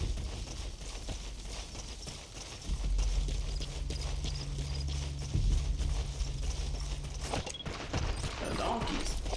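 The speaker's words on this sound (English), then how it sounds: "4 donkeys." Several donkeys trotting on hard ground in Metal Gear Solid V, a steady rhythmic clip-clop of hooves running throughout at moderate loudness, with a brief louder burst near the end.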